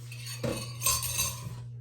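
A utensil stirs eggs and cheese into a cooking mixture that is not yet hot, during Thanksgiving meal preparation, giving close scraping clinks against a pan or bowl for under two seconds with no talking.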